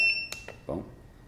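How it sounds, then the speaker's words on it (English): A short, high electronic alarm beep sounds from an Inkbird ITC-308 temperature controller, followed by a few faint clicks and a brief murmur of a voice. "an alarm will go off just like that"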